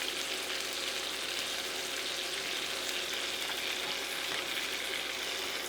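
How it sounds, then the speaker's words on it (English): Pork chops sizzle and fry steadily in a hot pan while being basted, a continuous dense crackle with no pauses. "Just keep on basting to get the flavors in the meat"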